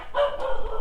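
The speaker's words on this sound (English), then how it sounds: "dogs in here, chickens." Dogs and chickens in an animal enclosure, a short burst of mixed clucking and barking-like calls, fairly close and loud, with no talk.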